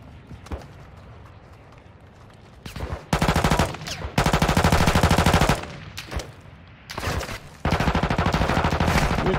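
Bursts of rapid automatic gunfire in Call of Duty DMZ on Ashika Island, several loud sustained volleys separated by short pauses, with quieter shots and rumble between them.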